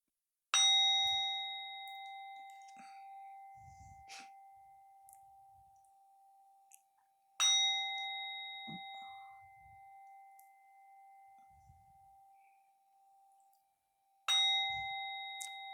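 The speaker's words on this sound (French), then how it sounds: "déjà 3 petits coups de bol tibétain" Tibetan singing bowl struck three times at wide, even intervals, each strike a bright metallic ding that rings out as a long sustained tone and slowly fades before the next.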